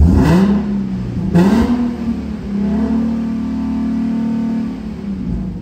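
A 3.7-liter V6 in a 2015 Infiniti Q50 with 74,000 miles is revved twice in short, sharp blips, then held at a steady elevated rev before dropping back, loud and close with no talking.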